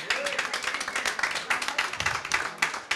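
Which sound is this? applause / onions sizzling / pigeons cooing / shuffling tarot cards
applause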